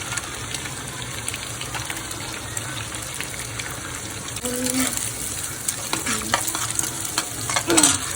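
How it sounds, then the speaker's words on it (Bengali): Onions fry lightly in oil, a steady sizzle that swells partway through, with spoon clinks and scraping stirs near the end. "পেঁয়াজটা হালকা ভাজি করব"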